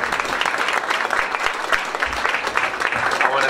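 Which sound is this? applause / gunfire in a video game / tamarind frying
applause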